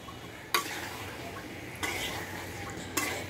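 Taro and fish with spices being stirred in a pot, three distinct scraping strokes of a utensil against the metal over a soft sizzle, close and clear with no voices.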